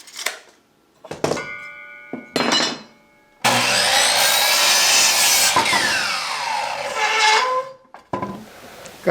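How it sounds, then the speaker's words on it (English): A table saw rips lengthwise through a 2x4 with the blade raised fully, giving a loud continuous whining cut of about five seconds that trails off, after a few short scraping and shuffling sounds. "Got the table saw out."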